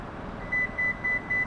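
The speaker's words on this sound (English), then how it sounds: "Listening for those 4 beeps." A Lexus LX 600 power back door emits four short, evenly spaced high beeps while saving its height setting, clear over a steady low background hum.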